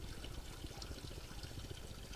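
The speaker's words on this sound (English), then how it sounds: "You see the water coming out of the tank." Hot water pouring from a drain on a water heater tank during draining and flushing, a faint, steady, continuous gushing trickle with no voices.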